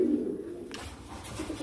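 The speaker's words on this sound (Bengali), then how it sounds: "এখানে আপনাদেরকে একজোড়া একটা কবুতর দেখাচ্ছি" A pair of Lahori pigeons gives a low, close coo at the start, followed by soft rustling and faint background sounds.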